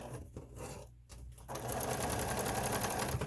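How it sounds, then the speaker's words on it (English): Sewing machine top stitching and back stitching a fabric mask, a short stop-start burst and then a steady, close rapid stitching rattle running to the end. "So now I'm top stitching. Now I'm back stitching."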